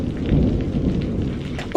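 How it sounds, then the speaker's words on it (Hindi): Heavy rain pours steadily during a thunderstorm, with a continuous low rumble of thunder throughout and a sharper burst near the end, loud and close with no talking. "तेज बारिश हो रही है और बिजली भी कड़क रही है"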